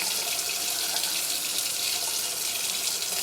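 Cold tap water runs steadily into a sink while homemade butter is rinsed to firm it up, a constant, even gush with no talking.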